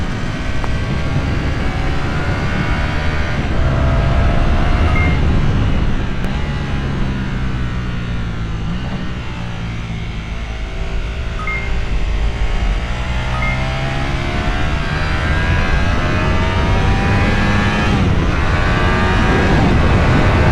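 A Yamaha R1M motorcycle being broken in with about 130 miles on it, ridden around a race track, its loud engine note rising and falling steadily and close throughout with no talk.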